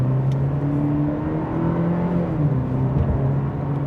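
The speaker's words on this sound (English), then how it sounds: "All right, guys, off the line on the gas." A 2026 Cadillac CT4 Premium Luxury sedan accelerating hard from a standstill, a steady engine drone rising gradually in pitch, heard from inside the car with no talking.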